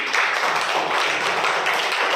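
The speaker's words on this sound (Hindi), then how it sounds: "तो सबसे पहले तुम लोग एक बार ताली बजा दो सभी" A classroom of students claps together on the teacher's request, a continuous dense wash of hand claps at steady loudness with no talk over it.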